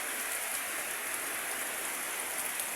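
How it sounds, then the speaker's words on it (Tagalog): Heavy rain pouring steadily at dawn near rice fields, a dense, even hiss of drops hitting surfaces that fills the whole stretch at constant loudness with no voices. "Pero umulan man. Lakas ng ulan."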